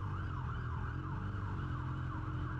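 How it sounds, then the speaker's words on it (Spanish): A fire truck siren wails in steady, repeating rising-and-falling sweeps, loud and continuous over a low rumble of road traffic. "un camión de bomberos!"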